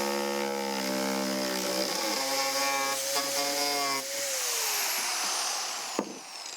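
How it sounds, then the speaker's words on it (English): Angle grinder roughing the outside end of a 3/4 inch PVC pipe into a bevel, a loud steady whine with shifting pitch that drops away near the end, followed by a brief knock. "So I am gonna use a grinder"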